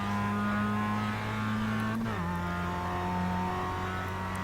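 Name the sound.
Mazda MX-5 car accelerating as throttle is applied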